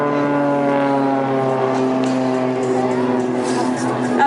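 Blades aerobatic propeller planes flying a display, a loud steady engine drone with strong harmonic tones that holds for several seconds, with a voice talking over it.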